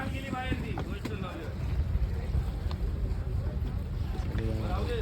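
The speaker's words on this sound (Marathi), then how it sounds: "फायनली आम्ही रेवसला पोचलेलो. बोट आलेली आमची." A boat comes in to Revas jetty on the way toward Alibaug, its low engine rumble steady under wind buffeting on the microphone, with people talking nearby.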